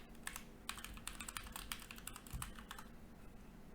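Rapid, uneven clicking of keys on a computer keyboard during a programming demonstration, close and steady for a few seconds with no talking.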